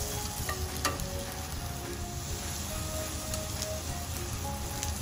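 Asparagus coated in olive oil sears undisturbed in a hot pan, giving a steady, close crackling sizzle with scattered pops and no talking.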